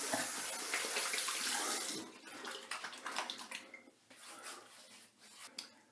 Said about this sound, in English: let me go ahead, get started, wet my face, lather up